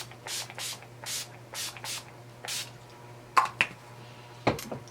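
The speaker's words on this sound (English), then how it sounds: "spritz my face with the Urban Decay All Nighter Makeup Setting Spray" A series of short, soft misting sprays from an Urban Decay All Nighter Makeup Setting Spray pump bottle onto a face, about six quick spritzes in a row, followed by a couple of light clicks.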